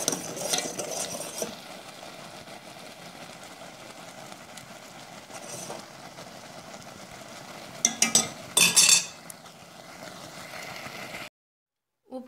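A banana and milk dessert mixture thickens and bubbles in a pot, giving a steady low simmer with soft stirring scrapes and a few clinks of a utensil against the pot, ending in a brief quiet pause.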